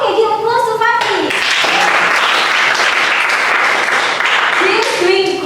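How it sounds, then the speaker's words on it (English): Classroom applause for a student after an English grammar answer, a dense burst of many hands clapping that fills the clip steadily and loudly, with a voice speaking briefly at the start and end. "give applause to Fatih."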